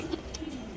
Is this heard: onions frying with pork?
no